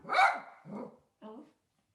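A small Frenchie puppy barks indoors, a sharp first bark followed by two shorter, softer yaps with brief pauses, close and fairly clear.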